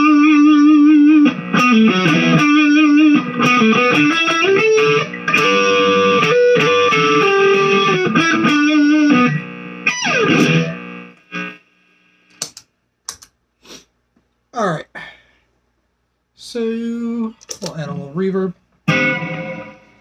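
A first-generation Godin Radiator electric guitar on its bridge pickup with heavy reverb plays sustained ringing notes for about nine seconds, then sparse plucked notes with long decaying tails and short gaps, alone with no talking.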